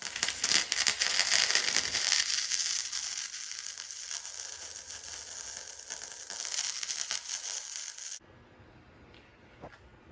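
Sustained crackling, sizzling arc welding buzz runs steadily for about eight seconds while exhaust pipe joints on a 1970 Plymouth Road Runner are welded all the way around, then cuts off abruptly to near silence.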